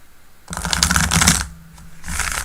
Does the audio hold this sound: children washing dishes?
no